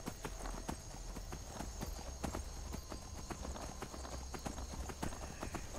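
Horse hooves clip-clop in the video game The Elder Scrolls V: Skyrim, a brisk, steady run of close, sharp knocks over a low rumble, with no talk.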